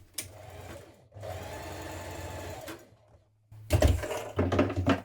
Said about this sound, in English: we're going to stitch down the short edges with a 1 centimetre seam